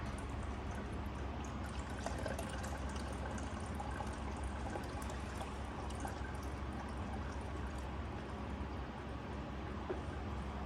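Coolant steadily pouring into the radiator of a third-generation Toyota 4Runner during a radiator flush, a continuous dense liquid rush with faint drips, close and unbroken throughout with no talking.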